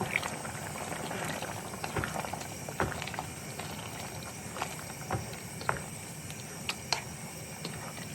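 Dinuguan, a pork blood stew, simmering and being stirred in a pot, with a continuous close bubbling boil and occasional sharper pops and scrapes throughout.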